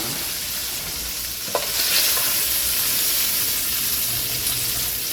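Sausage browns in a pan, giving a steady, close sizzle with some stirring scrapes and one small clunk, and no one speaks.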